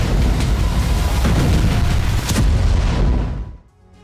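Heavy explosions from Ukrainian drone attacks on Russian cities, a dense roaring blast with a second boom midway, loud and sustained before fading away at the end.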